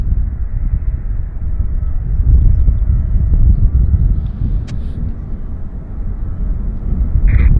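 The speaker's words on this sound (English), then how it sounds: "Now we do have an aircraft on finals." A Q400 turboprop on final approach to Vancouver Airport produces a steady, low rumbling drone heard from a distance, swelling slightly as it nears.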